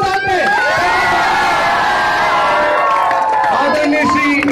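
A lively crowd at a school annual sports day cheers and whoops with a wash of clapping, children's shouts rising over the steady roar throughout.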